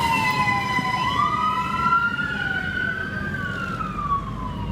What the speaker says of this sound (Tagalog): Umalingaw-ngaw ang sirena ng mga truck ng bumbero sa kalsada ng lungsod ng Lapu-Lapu